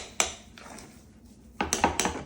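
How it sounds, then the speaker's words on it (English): Spoon clatters and scrapes against a bowl while thick gluten-free lemon vanilla cupcake batter is stirred, a sharp knock early, then a burst of rapid clinks near the end, close and fairly loud with no talking. "Okay, so let's give this a good mix. It's a little thick."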